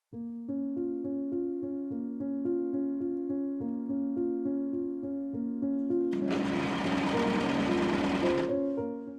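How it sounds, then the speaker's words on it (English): A sewing machine stitching a corset's modesty panel runs in a fast, even mechanical patter throughout, with a louder whirring burst near the end as the motor speeds up, close and without talk. "I pin and machine sew the two sides of the modesty panel"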